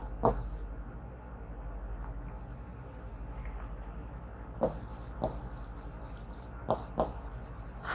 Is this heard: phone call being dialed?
no